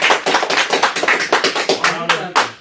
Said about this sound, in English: let's give a round of applause to Ms. McDermott